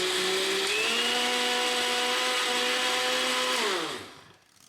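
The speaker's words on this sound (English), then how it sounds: "I mean, that blender works fast." A blender blending a protein shake whirs loudly at steady high speed, its motor pitch shifting slightly, then winds down and stops near the end.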